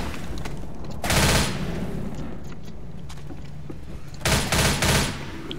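Bursts of automatic gunfire in the zombie shooter Left 4 Dead, two loud rapid volleys separated by a stretch of quieter game ambience.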